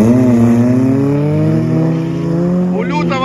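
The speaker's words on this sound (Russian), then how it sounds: "У лютого мотор крутит хорошо" An off-road trophy sprint race car engine revs hard nearby, a strong harmonic drone climbing steadily in pitch, with a brief squeal-like warble near the end amid outdoor background noise.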